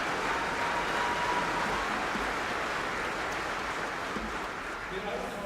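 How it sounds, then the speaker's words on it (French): Sustained applause from a union congress audience, a dense steady wash of clapping at a fairly even level throughout. "Oui, vous pouvez les applaudir."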